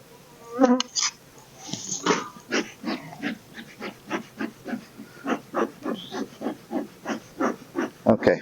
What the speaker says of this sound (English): we've got bees pretty much all the way across on here.